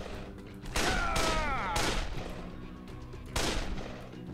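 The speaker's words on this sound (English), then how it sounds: "This is a pretty accurate rifle," Rifle fire in the video game Dead Island: a few loud, sharp gunshots, each with a ringing tail, fired at spaced intervals.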